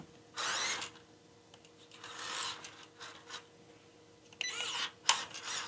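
A Rochobby 1/12 Jeep Willys 1941 MB RC scaler motor whines in high gear in several short bursts of a few seconds each, rising and falling with quiet gaps between runs.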